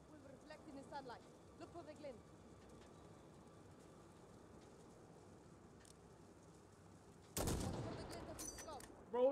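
Sniper rifle fire in Call of Duty Modern Warfare, heard as a sudden loud broadband blast near the end followed by a lingering rumble, with a second burst at the very close; talk and ambient birdlike chirps precede it.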